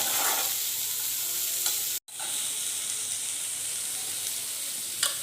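Chopped green chili, garlic, onion and ginger frying in oil alongside dry red chili and bay leaf for a masoor dal muri ghonto: a steady, even hiss of sizzling throughout, briefly cut off once, close and moderately loud.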